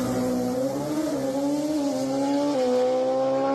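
A drag-racing motorbike engine revving hard nearby, a loud sustained whine climbing and shifting in pitch with a gear change partway through.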